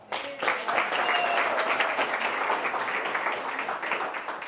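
A business-seminar audience breaks into applause after a brief quiet moment. The clapping swells quickly into dense, sustained sound and holds steady for several seconds.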